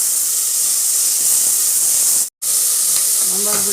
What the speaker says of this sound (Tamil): தக்காளி நல்லா வதங்க விட்டுடலாம்